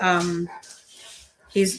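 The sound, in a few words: dog barking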